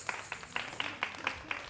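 Small storytelling-event audience clapping in a steady, evenly spaced rhythm of about seven sharp claps, moderately faint and slightly distant, with no voices over it.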